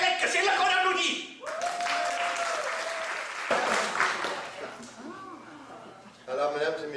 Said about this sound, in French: C'est là qu'on applaudit.